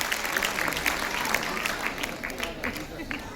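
An audience at a large Delhi business seminar applauds Pankaj ji, dense overlapping claps filling the short span steadily, with a voice faintly audible underneath.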